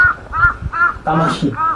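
A voice imitates a crow's cawing, giving four or five short, harsh calls in an uneven rhythm, loud and close, in an indoor lecture setting.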